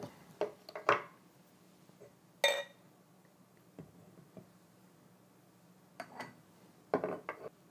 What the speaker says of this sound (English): So let's get it open, get it into a glass